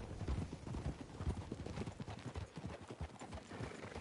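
Hooves clip-clop in a quick, steady rhythm in the video game Red Dead Redemption, a horse trotting along at a moderate distance.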